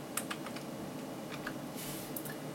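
Computer keyboard up arrow key pressed repeatedly during a Photoshop editing session, giving a series of light, quick clicks over a faint hiss.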